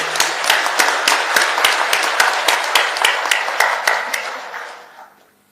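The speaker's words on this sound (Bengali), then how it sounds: "সবাই মিলে আপনার জোরে হাততালি" A large audience claps for police officers at a formal speech event, a dense, loud round of applause with sharp individual claps that fades out at the end.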